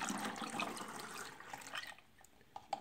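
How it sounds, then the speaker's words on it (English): Water poured back into a shaker holding scooped protein powder: a steady splashing pour for about two seconds, then it stops, with a few faint drips and light knocks afterward. "pour the water back in"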